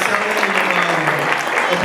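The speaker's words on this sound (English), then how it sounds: "Please give the Poetry Club a round of applause" Loud, steady clapping fills a school Poetry Night as the crowd honors the Poetry Club, a thick continuous wash of hands with a low hum or voice lingering beneath it.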